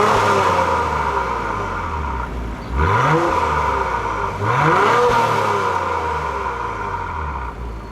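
A 2021 Acura TLX Type S with an active quad exhaust idles with a deep burble, then revs twice in quick succession, each blip rising and falling sharply close by.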